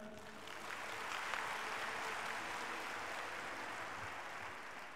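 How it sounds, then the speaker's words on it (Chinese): An audience at a graduation ceremony applauds, a faint, even wash of clapping from a large hall that holds steady from start to finish, distant and with no voices over it. "掌声"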